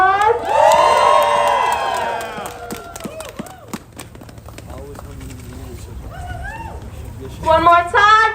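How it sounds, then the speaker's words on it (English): Crowd at a Palestine march in Washington DC cheering and applauding, a loud burst of voices and clapping in the opening seconds that fades to a murmur, then swells again near the end. "Let's give them a round of applause."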